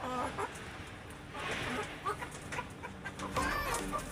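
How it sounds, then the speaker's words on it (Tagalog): Young hens clucking in short, irregular bursts, mixed with nearby chatter and background noise at a pet market in Kuwait. "Mga bata pa itong mga inahin natin"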